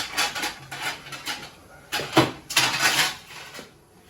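A lid clatters onto a pot of cooking masala, with a few light metallic clinks and knocks of cookware in short, close bursts and quiet gaps between them.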